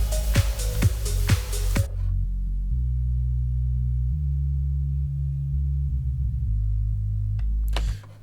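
Low-end bass of a song, produced in Logic Pro X: a few rhythmic plucked hits open the passage, then sustained deep bass notes shift in pitch, loud and alone, before cutting off.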